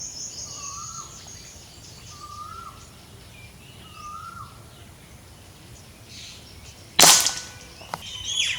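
A single sharp crack from an SDB Panther underlever air rifle firing a JSB 8.4 grain pellet lands near the end, loud against a quiet outdoor background where birds call softly and repeatedly beforehand.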